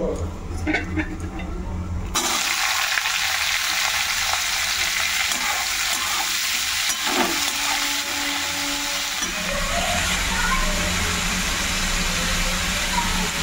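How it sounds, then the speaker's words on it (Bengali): Black cumin seeds fry in mustard oil in a wok with a steady, close sizzle that swells after the first two seconds and keeps crackling, while a person talks over it. "কড়াইয়ের মধ্যে সর্ষের তেল আর কালো জিরে"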